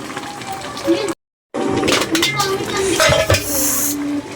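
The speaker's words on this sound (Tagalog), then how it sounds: "Haluin na natin." Food being stirred in a cooking pot in a rural home kitchen, with metallic scraping and clinks of a utensil against the pot, a brief gap, then busier stirring over faint sizzling.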